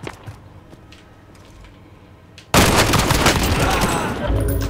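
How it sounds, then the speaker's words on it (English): Dense burst of rapid gunfire in Call of Duty Warzone erupts abruptly midway and continues loudly to the end, following a quieter stretch with faint game ambience. "I can hear gunshots."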